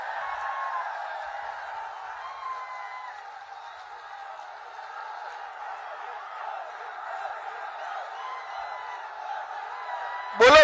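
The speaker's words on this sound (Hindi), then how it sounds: "जोर से ताली बजाओ" A large crowd at an outdoor political rally in Jaitaran cheers and claps in a steady, dense roar with scattered whoops, ending in a sudden loud burst close by.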